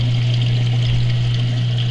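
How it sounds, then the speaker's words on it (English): Water flowing gently and stirring the surface inside an aquarium sump refugium, a steady close trickling wash over a constant low pump hum, with no splashing or voices. "get some nice flow, no splash, no noise, just some nice agitation of the water surface"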